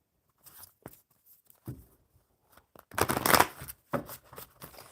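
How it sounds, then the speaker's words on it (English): Playing cards are shuffled on a tablecloth-covered table, with scattered soft riffles and taps building to one dense, close burst of riffling, then a few quieter flicks. "One more good shuffle."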